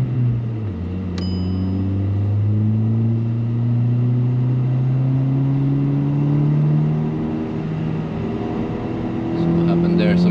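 A 370hp VW Polo WRC rally car engine runs steadily with a low, rising drone that climbs slowly in pitch, loud and close, with a faint voice briefly audible over it.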